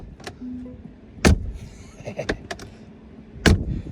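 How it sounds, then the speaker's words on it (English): A heavy Mercedes G63 AMG door slams shut twice, close up, with clicks and mechanical latch rattles in between. "And the doors on the G-Wagon sound like this."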